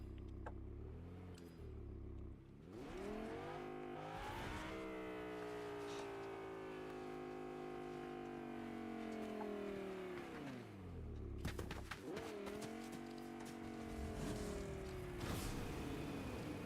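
Car engine in Fortnite revving, rising and falling in pitch with sustained drones and a sharp re-rev near the end, steady and fairly loud with no speech.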